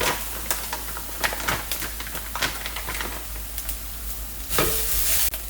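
Shredded coconut being stirred and toasted in a hot pan, a steady dry sizzle broken by repeated sharp scraping strokes of the spoon, close and alone, with a louder scrape near the end.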